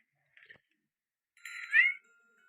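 A cat in the video game Baby in Yellow gives a short faint chirp, then after a pause a louder, longer meow that rises and falls, heard alone without talk.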